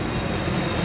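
Airplanes pass overhead as a steady, broadband roar with a low rumble, continuous and fairly loud, with no voices.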